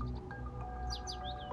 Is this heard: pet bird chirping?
yes